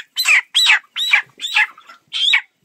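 Broiler chickens on a farm squawk loudly as they are caught by hand, five sharp, close, evenly spaced alarmed cries with brief silences between them.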